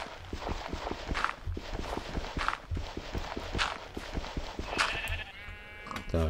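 Sheep in the Minecraft video game bleat now and then over a steady run of quick, regular footstep-like clicks, with a brighter game effect near the end.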